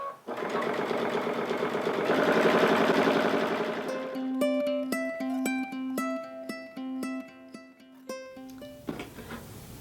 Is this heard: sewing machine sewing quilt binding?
yes